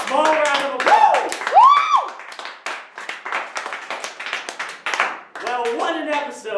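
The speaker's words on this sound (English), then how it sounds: "Let's small round of applause." A small round of audience applause at a studio panel show, scattered claps running under loud, lively talk and shouting voices throughout.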